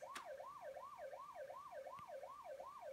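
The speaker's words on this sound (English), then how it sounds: "it also has the different emergency vehicles and their sounds" A toy driving simulator plays an electronic police car siren, a steady rapid wail that rises and falls about twice a second, fairly clear and uninterrupted, with two faint clicks.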